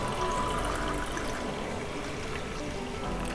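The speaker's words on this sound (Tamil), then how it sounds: "இப்போ இதில் வந்து 1 லிட்டர் அளவு நம்ம தண்ணியை சேர்த்துக்கலாம்." One litre of water is poured steadily into wheat milk while making Tirunelveli halwa, giving a continuous close splashing stream with no talk.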